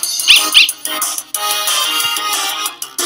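A dog being petted in the video game Undertale: two quick high squeaky yips near the start, then a bright, busy chiptune-like game soundtrack continuing underneath.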